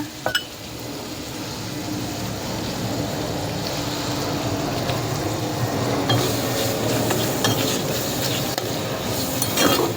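Ingredients for soya gravy, with coriander in the mix, are sautéed and stirred in a pan: a steady, close frying hiss runs throughout, with occasional light clinks of a utensil against the pan. No one speaks.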